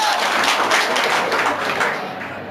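Classroom applause from a group of students, a dense, steady patter of many hands clapping at close range for a couple of seconds before tapering slightly.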